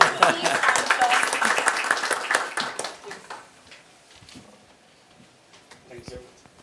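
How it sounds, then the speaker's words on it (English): An audience at a panel discussion claps in steady, dense applause for the first few seconds, then it fades out to quiet room sound with faint voices. "Please round of applause."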